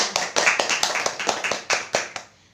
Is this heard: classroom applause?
yes